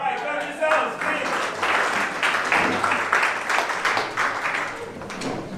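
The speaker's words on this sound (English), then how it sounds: "Alright, clap yourselves, please." An audience at a motivational speech applauds and claps in a steady, dense wash that holds at an even level from start to finish, with a few voices mixed in.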